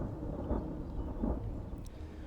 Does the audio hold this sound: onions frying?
no